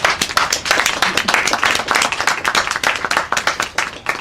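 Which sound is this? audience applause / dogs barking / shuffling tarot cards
audience applause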